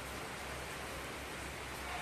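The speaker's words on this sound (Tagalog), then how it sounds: "Umulan." Rain falls steadily during a typhoon, a dense even hiss with no let-up, heard alone.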